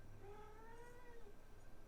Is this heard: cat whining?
yes